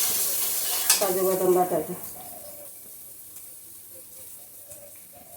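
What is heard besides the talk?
sautéing the masala in a pan, sizzling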